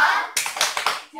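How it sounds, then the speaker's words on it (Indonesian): Classroom of pupils giving a rhythmic thumb clap for a classmate, a short burst of claps in several distinct beats after a brief stretch of voice at the start. "kita beri tepuk jempol terlebih dahulu untuk teman kita Susan ya"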